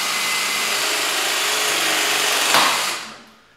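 Powered clamping tool crimping a 20 mm multilayer pipe fitting with a 3/4 head, giving a loud steady motor whine for about three seconds before spinning down and fading out.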